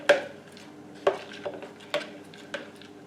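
A spoon stirs chocolate muffin batter in a bowl, knocking and scraping against the side in about five distinct clinks at an uneven rhythm, close and clear, with no talking.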